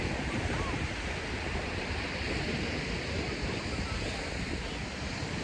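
Ocean waves wash onto a beach in a steady, loud roar of surf mixed with wind buffeting the microphone, continuous throughout with no distinct breaks.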